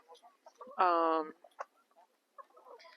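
Chickens near a homemade backyard coop give a single loud, harmonic squawk-like call lasting about half a second, close by, surrounded by faint scattered clucks and chirps in an otherwise quiet yard.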